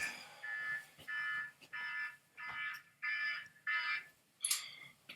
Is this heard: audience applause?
no